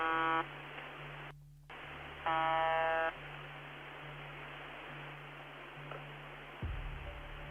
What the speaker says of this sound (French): Au milieu de ces bourdonnements constants, des voix surgissent parfois